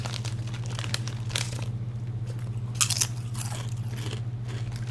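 Someone crunching crunchy chips close to the mic, with repeated crisp bites and chewing over a steady low electrical hum.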